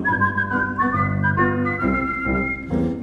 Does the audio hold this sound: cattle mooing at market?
no